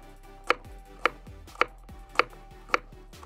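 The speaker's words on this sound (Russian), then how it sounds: "Морковку режем колечками, но не сильно толсто." A knife slices a carrot into rings on a cutting board while fish soup is cooked over a campfire at a dacha, giving five evenly spaced sharp chops, close and distinct with quiet pauses between them.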